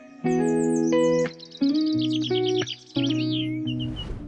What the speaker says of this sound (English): For nature scenes, gentle bird songs with soft wind chimes and rustling flower petals.